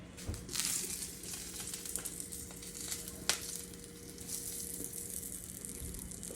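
Sausages and meat fry in a pan for a breakfast fry-up, giving a continuous soft sizzle with occasional sharper crackles and pops. No one talks over the frying.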